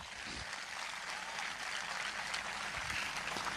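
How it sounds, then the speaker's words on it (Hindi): A church congregation claps together in steady, sustained applause at moderate volume, filling the room for several seconds. "आइए उसके लिए एक अच्छी ताली बजाएंगे।"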